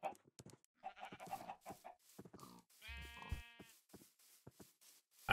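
Several Minecraft sheep bleat in short bursts amid quiet clicks and small game sounds, one bleat longer and louder than the rest.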